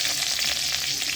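Dried red chillies and curry leaves sizzle steadily in hot oil for a tempering, a close, continuous crackling fry with no talk.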